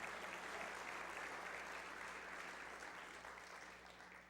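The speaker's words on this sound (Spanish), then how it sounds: "dele un aplauso al Señor" Sustained applause from a church congregation, a dense even wash of clapping held at a steady level before tapering slightly toward the end, heard somewhat distant and with no talking over it.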